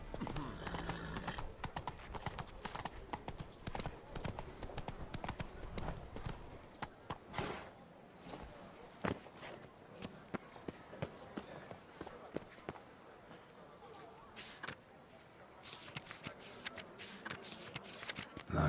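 Roach, a horse in The Witcher 3: Wild Hunt (Blood and Wine), trots with steady clip-clopping hooves, close and continuous, with occasional snorts and game music or ambience underneath.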